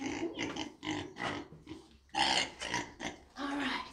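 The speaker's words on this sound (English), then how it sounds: "So let's go ahead and move the pigs." Pigs grunting and squealing in bursts as they are picked up and moved from a barnyard into a new pen, close and fairly loud, with no clear talk.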